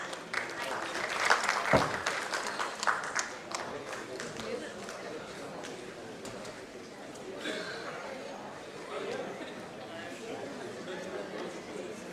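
A summit audience applauds to welcome a speaker, with crisp, fairly loud claps at first. The claps soon fade into a murmur of crowd chatter and scattered movement.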